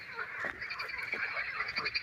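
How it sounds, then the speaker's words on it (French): A dense chorus of frogs croaks nonstop at a pond, many overlapping calls answering one another at close to middle distance, steady and fairly loud with no talking. "Un concert incessant de grenouilles."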